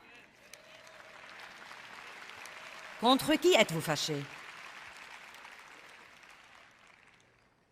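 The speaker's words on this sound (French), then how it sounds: "Vous voyez quand vous applaudissez ces applaudissements mous." Audience applause in a church assembly, a short burst of soft clapping lasting about a second, rising out of a steady murmur of someone speaking to the crowd.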